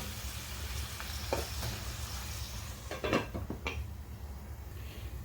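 Chopped tomatoes sit in a kadai over a low, faint sizzle for Mughlai egg curry, with a few soft spatula turns and scrapes in the middle over a low background hum.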